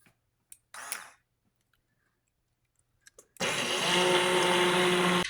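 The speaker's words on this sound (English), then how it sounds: "So I'm gonna have to use the immersion blender." After a few clicks and a short rustle, an immersion blender whirs on loudly in banana cake batter and runs steadily for about two seconds before stopping.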